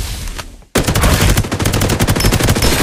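Rapid automatic gunfire in the battle royale shooter Farlight 84 bursts in loud and close after a brief quieter lead-in, a dense continuous rattle of shots with no talk.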